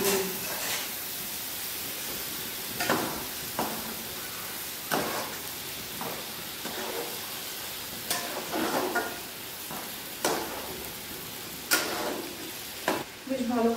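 Taro greens (kochu shak) frying in a pan, a soft steady sizzle broken by repeated scraping stirs and clicks of a utensil against the pan.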